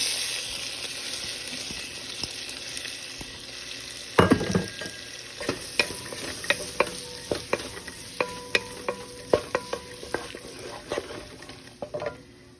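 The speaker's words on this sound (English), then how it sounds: "All right, let's add one chopped onion." Chopped white onion hits melted butter in a soup pot with a sudden burst of sizzle, then settles into a steady frying hiss broken by regular sharp knocks and scrapes of stirring, close and clear with no talk.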